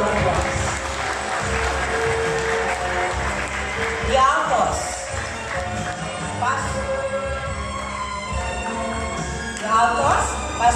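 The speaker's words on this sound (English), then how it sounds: "Let's give them a round of applause." An audience claps steadily and densely for choir singers at a live night cantata show, the applause continuing under music and some talk.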